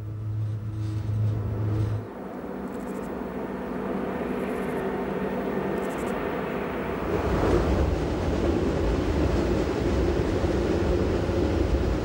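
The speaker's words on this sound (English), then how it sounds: "With the rack now helping with the braking of our train, we begin to descend." A Glacier Express rack railway train descends a mountain line with the rack assisting braking, a steady loud rumble with a low hum at the start that drops out, then swelling noise later on.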